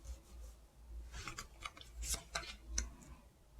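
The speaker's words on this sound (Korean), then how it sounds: "이제 카드 나열 해보고 진행하도록 하겠습니다" Tarot cards are spread out across a surface, giving faint soft sliding, rubbing and light ticking sounds over about three seconds, close but very quiet, with no speech.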